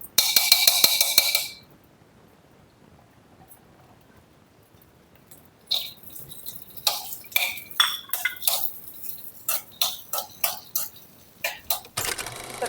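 Cashews and raisins frying in ghee in a pan for jaggery payasam: a loud sizzling hiss at first, then a pause and a run of sharp metallic clinks and scrapes of a spoon against the pan, repeated in an uneven rhythm.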